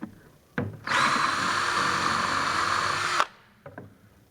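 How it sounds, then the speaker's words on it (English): A power drill whirs steadily for about two seconds as it bores through an upturned plastic bucket lid, with small handling knocks before and after. "To drill a hole in the lid, I'll turn it upside down"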